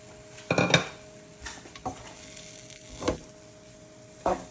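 Spoon scrapes and clanks against a bowl as spiced potato stuffing with fresh coriander is mixed for aloo puff pastry, in a few distinct clatters spread across a few seconds with quiet gaps between.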